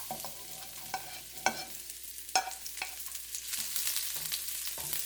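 Ginger and garlic stir-fry in a pan, giving a quiet, steady sizzle broken by irregular scraping strokes of a utensil stirring them.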